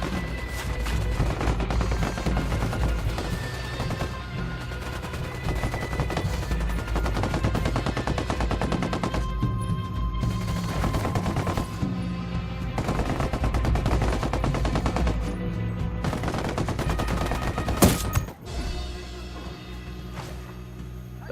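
Heavy gunfire in the video game Ghost Recon Wildlands, with continuous automatic bursts and shots running for about twenty seconds, loud and dense, ending in a sharp blast.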